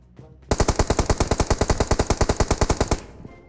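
Rapid automatic gunfire from PUBG Mobile, a loud, close burst of about twenty-five evenly spaced shots over two and a half seconds, heard alone with no talking.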